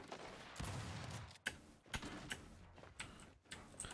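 Gunfire from a Lancer rifle and a shotgun in the video game Gears 5, heard as faint, sharp reports spaced irregularly over a low murmur, with a few louder cracks standing out.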